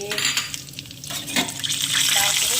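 Whole spices (bay leaf, dried red chilli, cinnamon, cardamom and clove) frying in hot oil for a mutton kosha, a steady close crackling sizzle with light stirring and pan clatter, growing louder toward the end.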